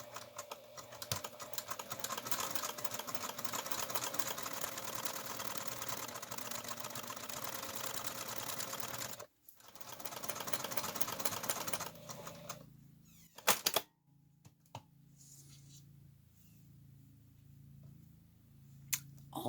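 A sewing machine stitches a loofah mitt in a steady, rapid mechanical run that stops abruptly midway, followed by a few sharp clicks and a quieter, uneven stretch of handling noise.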